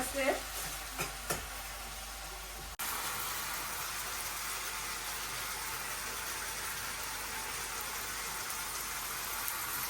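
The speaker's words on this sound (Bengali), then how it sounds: "এখন আমি এই মাছটা একটু সুন্দরভাবে একটু কষাই নিব" Fish, given as lotia, frying in a pan alongside greens such as pui shak and spinach, a few sharp stirring clatters at first, then a continuous even sizzle that stays close and moderately loud, with no speech.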